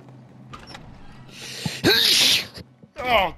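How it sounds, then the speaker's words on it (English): A man sneezes once, loud and close, with a sharp intake of breath before it and a short breathy exhale after, while game sounds play softly underneath. "I just sneezed."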